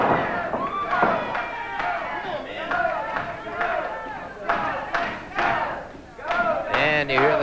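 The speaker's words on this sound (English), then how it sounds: "you hear the chant being picked up by the crowds here at the studio" A wrestling studio crowd chants "Go, Dustin, go" for Dustin Rhodes, rhythmic group shouts rising and falling in bursts, loud and close, with cheering voices throughout.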